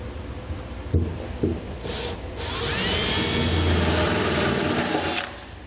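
Shop vacuum running steadily as it picks up metal debris and burrs after holes are drilled in a pickup truck bed for an underbed gooseneck hitch, a couple of knocks before the motor settles into a loud continuous whine.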